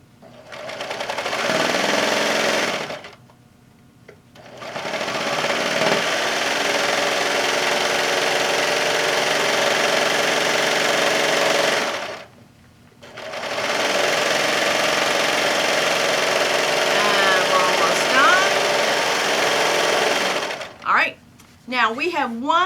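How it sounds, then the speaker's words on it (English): A serger overlocks the fabric edge of a pillowcase, running in three loud, fast-buzzing bursts separated by short pauses, each start and stop clearly audible, with a brief clatter at the end. "I'm going to finish off the edge with my serger"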